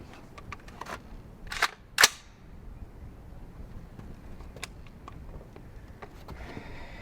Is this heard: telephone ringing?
no